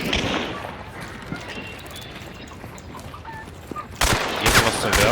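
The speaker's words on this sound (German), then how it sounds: "Schießen gezielt auf die Wand," Gunfire aimed at a wall in the Hunt: Showdown video game, a quiet scattered patter of shots early on, then a sudden loud burst of dense, rattling fire near the end, with a voice talking at times.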